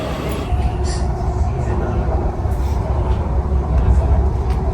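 Steady low rumble of a Delhi Metro train in motion, continuous and fairly loud, with faint cabin noise throughout.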